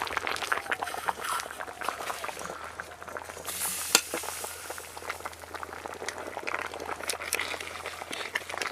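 Boiled cabbage, tomato and onion being lifted out and strained, giving wet, dripping and sloshing liquid sounds with soft clatter, moderately close and fairly steady throughout.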